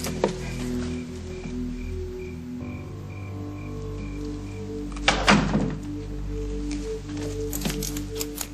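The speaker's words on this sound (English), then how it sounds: "I thought I heard the door." A single dull door thud lands midway through a quiet indoor scene in a TV soap drama, a short soft knock standing out briefly against low background hum, with no talk.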